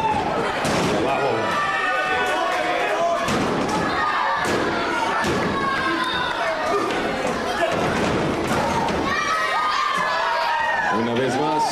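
A masked luchador is slammed down from the top rope onto the ring mat in a lucha libre match, giving several heavy thumps and slams over a loud, continuous crowd roar, with an announcer talking throughout.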